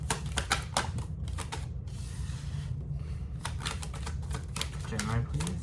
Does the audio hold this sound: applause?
no